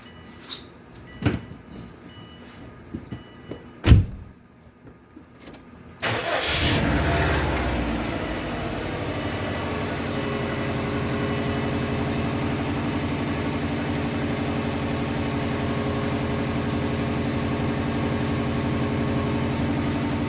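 Subaru WRX wagon, 2005, with a new HKS downpipe, starting up: a few clicks and knocks, then the engine catches around six seconds and settles into a steady, close, rumbling idle.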